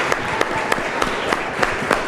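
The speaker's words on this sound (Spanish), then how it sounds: "Un aplauso también, ¿no?" Audience applause at a festival project presentation in Mexico, a steady mass of clapping with regular sharper claps standing out, moderately loud and continuous without speech.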